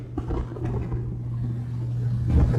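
NASCAR Sportsman division stock cars race around the Seekonk oval, a steady low engine drone with a constant tonal hum that swells slightly toward the end, heard from a distance with no talking.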